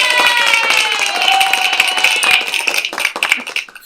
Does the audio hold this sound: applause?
yes